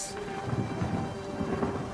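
A thunderstorm with a deep rolling rumble of thunder and steady rain hiss, loud and continuous with no voices.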